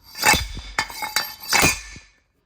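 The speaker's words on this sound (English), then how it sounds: "Okay, it bottomed out. You hear the difference in sound." Several sharp metallic clinks and pressing knocks close by as a rear axle bearing on a 2011 Jeep Wrangler Sport is pressed in, ending in a final solid clunk as it bottoms out, then silence.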